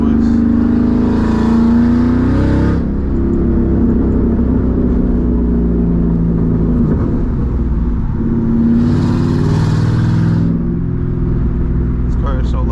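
A straight-piped 2007 Mustang GT V8 roars loudly from inside the cabin, its exhaust rising through acceleration and dropping at gear changes, heavy low rumble throughout, with someone talking over it.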